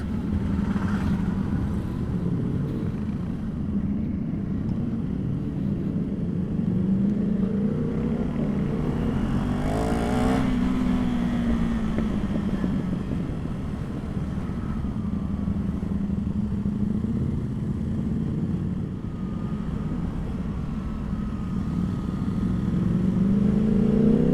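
Loud Ducati motorcycles ride through city streets, engines droning steadily with repeated revs rising and falling close by, a continuous dense roar without talk.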